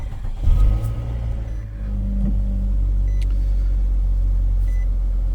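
A Nissan Altima with a 2.5L engine cranks and catches, then settles into a steady low idle rumble that carries on loudly and close up, with a faint beep partway through.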